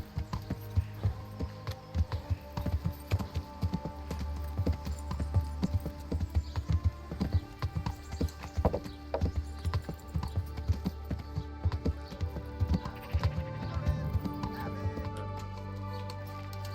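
Horse hooves clip-clop in a steady trotting rhythm over a low musical drone in the video game Kingdom Come: Deliverance, close and continuous, with an occasional brief snort.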